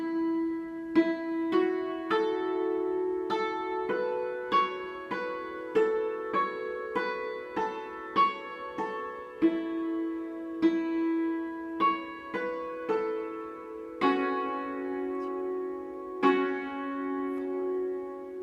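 A hammered dulcimer plays the first half of the B part of the fiddle tune "Tomahawk", a steady run of struck, ringing notes with some held longer, played solo and clear with no talking.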